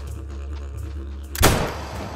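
A single sharp gunshot in the hunting video game Trophy Lodge cracks out over a steady low background hum of game ambience and fades quickly.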